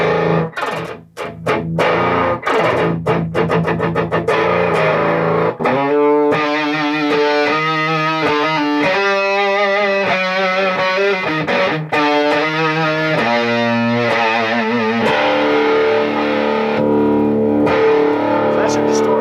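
Electric guitar played through a homemade, hand-built distortion pedal, loud and close, with fuzzy, saturated chords and riffs: sharp strummed hits at first, then sustained gritty notes and bends ringing continuously for the whole stretch.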